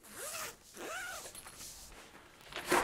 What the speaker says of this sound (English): this whole thing has a zipper to it